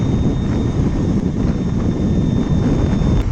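A Lightning Strike electric sportbike cruising at speed on a freeway, heavy low wind roar buffeting the rider's microphone, with a thin steady high motor whine running underneath.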